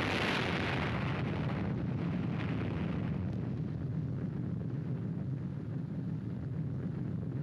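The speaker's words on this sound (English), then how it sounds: "This was the fiery birth of the atomic bomb" The first atomic bomb test explosion in the New Mexico desert in 1945 comes through as a sustained, rumbling roar with hissing broadband noise, loudest at the start and slowly easing, with no voices.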